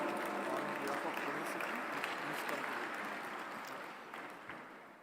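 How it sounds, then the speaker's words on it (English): An audience at the G20 Interfaith Summit 2023 at the World Peace Dome in Pune applauds to welcome a speaker on stage, with dense, sustained clapping from a large crowd that fades slightly toward the end. "Please give a round of applause"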